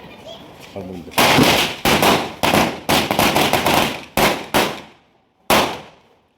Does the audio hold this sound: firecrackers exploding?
yes